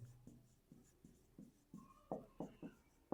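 Handwriting with a pen on paper gives a series of soft, close scratchy strokes in an irregular rhythm, about a dozen short taps and scrapes, quiet and with no talk.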